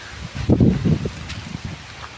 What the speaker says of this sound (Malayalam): ഇതാണ് ഉച്ചക്കത്തെ ഒരു കാറ്റും ഒരു ഇതൊക്കെ കേട്ടോ